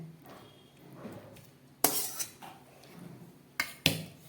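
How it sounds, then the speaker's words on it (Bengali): A lid comes off a pot of vegetarian banana flower curry in a kitchen, with several sharp metallic clinks and clatters after a quiet stretch, two of them close together near the end. "এবার ঢাকা খুলে দেখাচ্ছি"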